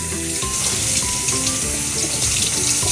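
Running tap water rinses a hair mask out of a child's hair, a steady close rush and splash that fills the whole stretch without a break.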